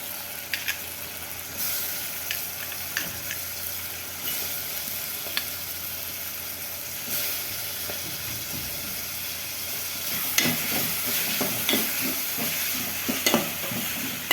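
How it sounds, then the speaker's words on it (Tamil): Cut mushrooms sauté with already softened onion and tomato for mushroom biryani, a continuous close sizzle with frequent spatula scrapes and stirring clatter that grows busier toward the end, with no talking. "இப்போ வந்து நம்ம கட் பண்ணி வச்ச மஷ்ரூமை சேர்த்துக்கலாம்"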